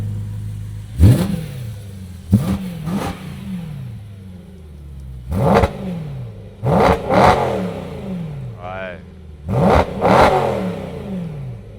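A BMW M3 engine with valved mufflers revs sharply several times in a row, loud and close, each rev rising and then dropping back with a throaty exhaust burble.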